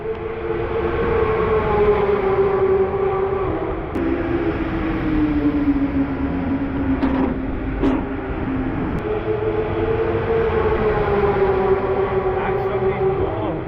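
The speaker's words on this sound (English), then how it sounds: "these 911s are just caning it past us here down this straight" Porsche 911s speed past on a wet straight at the Nürburgring in heavy rain, a loud continuous engine roar with shifting tone that rises and falls as the cars pass nearby.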